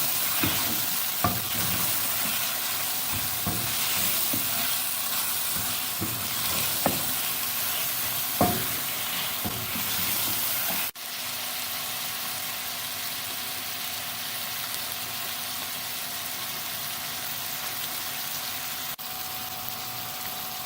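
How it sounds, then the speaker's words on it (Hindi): Ginger garlic paste sizzles steadily as it fries in a pot for a chicken and chana dal dish, with scraping stirs and small clinks of the spoon coming through repeatedly over a constant hiss. "अदरक लहसुन के पेस्ट को अच्छी तरह फ्राई होने देंगे।"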